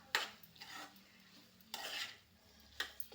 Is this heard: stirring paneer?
yes